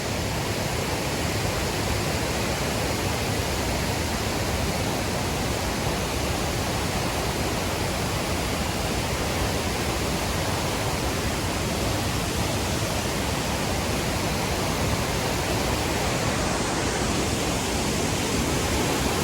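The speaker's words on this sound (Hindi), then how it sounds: "झरने का साउंड आ रहा होगा बहुत ज़्यादा।" A waterfall flowing over moss-covered rocks in Udaipur roars continuously, a dense, loud, unbroken rush of water filling the whole clip with no other sounds.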